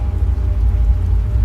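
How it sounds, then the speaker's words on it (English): Steady rain falls in a dense, even patter, loud and close, with a low rumble underneath and no voices. "The rain is falling on the keys"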